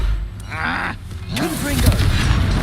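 Confringo spell explosion in Hogwarts Legacy, a loud, close boom with rumbling low end that swells across the second half, mixed with gruff game voices and a shouted line over the blast.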